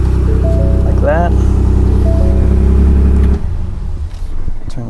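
The engine of a Ford Ranger Raptor pickup idles loud and close with a steady low rumble, then cuts off, while a person talks over it.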